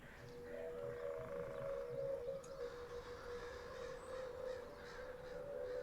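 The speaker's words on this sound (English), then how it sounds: "Hear the crows cawing as the evening" Crows cawing at evening over a swamp, faint and distant calls repeating against a quiet, steady background hum, with no voices present.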